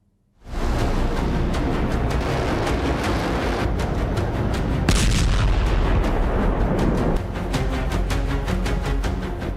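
A missile attack is heard in news footage: dense, loud bursts of gunfire and heavy explosive booms that continue almost without a break, with one especially strong blast near the middle.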